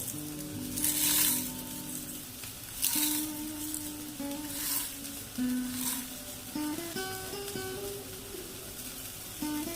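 Pieces of eggplant sizzle in hot oil with a steady crackling hiss, swelling in bursts as they are stirred or turned.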